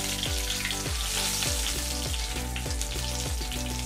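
Whole garam masala spices, cinnamon pieces, cloves, cardamom and black pepper, frying in hot oil with a steady, close sizzle throughout, while a low rhythmic pulsing repeats about every half second underneath.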